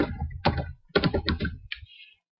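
Keys clatter on a computer keyboard as a search phrase is typed, a short burst of quick, close, irregular clicks with a brief pause before the last few strokes.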